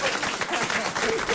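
Comedy show audience breaking into applause, a thick close burst of clapping that swells and holds for over a second with voices mixed in.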